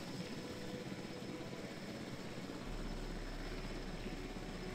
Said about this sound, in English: oh, wow, that's like a cargo helicopter